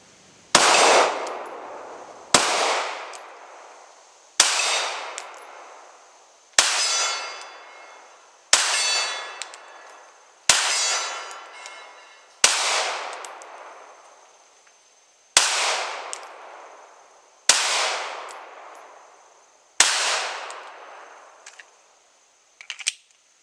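Sig Sauer P320 X Compact pistol fired at a steel swinger target: eleven sharp shots at a steady pace, each followed by a ringing metallic clang and a short decay, loud and close with no talking.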